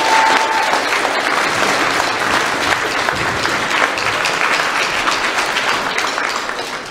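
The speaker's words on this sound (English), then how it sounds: "So let's give them a round of applause." Loud, dense audience applause at a spring school concert, steady clapping from a large crowd that fills the hall and tapers off slightly at the end.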